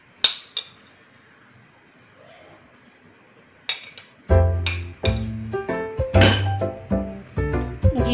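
Stir-fried chow mein noodles are dished out, giving sharp clinks of utensils against a dish: a few sparse taps, a pause, then a rapid run of ringing metallic and glassy knocks close by.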